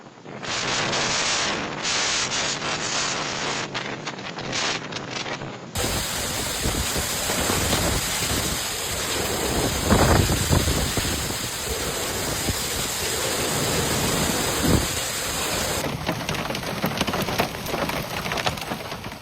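Heavy rain and hail storm over highways near Mason City and Kanawha, Iowa: a dense, steady roar of downpour, loud and continuous, with abrupt shifts in tone as the scene cuts.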